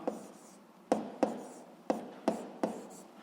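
Handwriting on paper up close, with short scratchy pen strokes that each begin with a distinct tap, repeating at an irregular pace.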